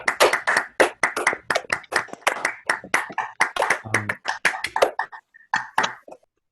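Audience applause after a talk by computer scientist Leonard Kleinrock, sparse and uneven claps, close and fairly loud, thinning out and fading to silence by the end.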